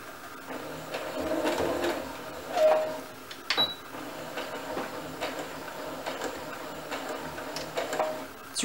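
A sewing machine stitching a fabric face mask, running in a soft, steady rhythmic whir with a few sharper clicks and pauses, fairly quiet and close, no talking.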